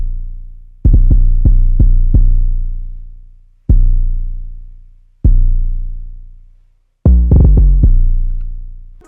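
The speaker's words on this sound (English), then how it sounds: "We'll start with the 808. We used a shortened spins from a Fabo drum kit." A loud, deep 808 bass drum pattern built in FL Studio from shortened spins out of a Fabo drum kit, for an Arabic-style trap beat. Long booming hits decay slowly, broken by quick stuttering rolls near the start and at the end.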